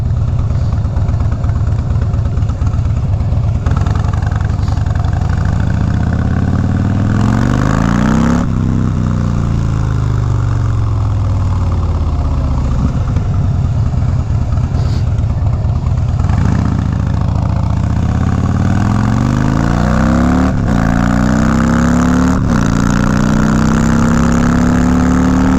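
Motorcycle with Vance & Hines exhaust pipes and a fuel programmer, low mileage, idling loud and close with a deep, uneven lumpy rumble and occasional blips of throttle that rise and fall across the stretch, no voices.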